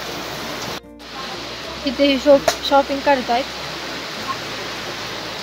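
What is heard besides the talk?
rain falling outside Mahabaleshwar temple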